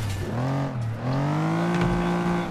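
Car engine racing in FlatOut 2, a loud droning motor with rising and falling pitch as it shifts and revs, steady and close throughout.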